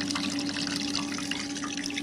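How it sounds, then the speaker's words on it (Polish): Warm water draining from the outlet of a garden pool, a steady continuous rush and splash with a faint hum underneath, close and unbroken. "Ciepła woda wypływa."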